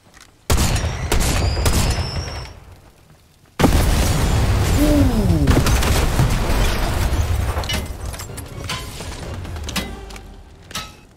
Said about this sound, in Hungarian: Valaki lő, nem?